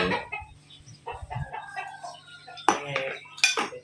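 Chickens clucking in a rural home setting, short scattered clucks mixed with clinking dishes and a few sharp close knocks, fairly quiet overall.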